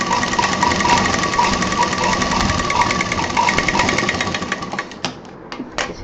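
A sewing machine stitching along the zip of a handbag runs in a loud, fast, continuous whir for about five seconds, then stops with a few short clicks and bursts.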